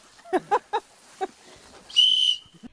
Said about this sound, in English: Blow your whistle